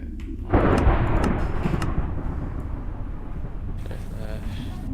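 A heavy booming blast followed by a sustained rumbling roar, loud and close, like ship cannon fire in Minecraft with lingering noise.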